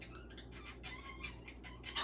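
Pet birds cluck softly indoors in a lit room, a few short, faint bursts scattered across a quiet background, with no talking.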